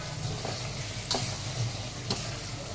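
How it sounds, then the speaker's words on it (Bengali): Cauliflower stir-fries in spiced oil in a pan, giving a steady close sizzle broken by a few sharp scraping strokes of a spatula. "ফুলকপি দিয়ে এটাকে কষাবো ভালো করে"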